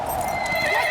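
Horses clip-clop and neigh in a video game scene, a dense, steady layer of hooves and whinnies running continuously at close range with no talk over it.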